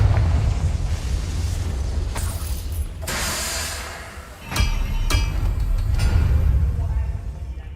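The Confringo blasting spell goes off in Hogwarts Legacy with several loud booming bursts, first a big blast and then sharper cracks at intervals over a low rumbling bed, with some mechanical creaking between them.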